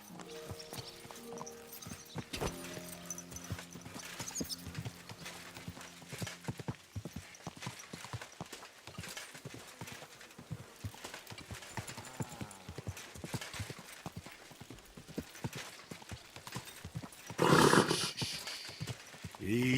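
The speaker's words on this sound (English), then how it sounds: "sounds like a bloody expensive horse" Steady clip-clop of horse hooves at a walking pace in the video game Kingdom Come: Deliverance II, fairly close, with a brief louder burst of noise near the end.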